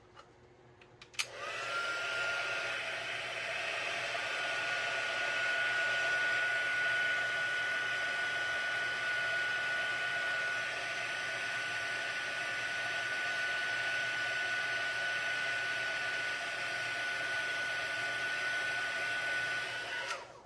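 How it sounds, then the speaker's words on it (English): A heat tool blows a steady, loud stream of hot air for heat embossing, starting with a click and running continuously for about twenty seconds with no talking over it. "so we have all of them heat embossed"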